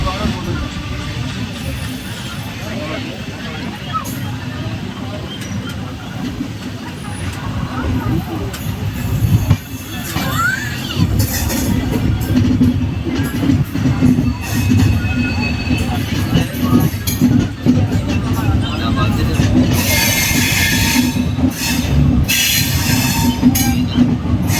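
A Kovai Express passenger train, Chennai to Coimbatore service, runs on the rails near Erode Junction, with a continuous rumble of wheels, rhythmic clatter and occasional squeals, heard from inside under some talk.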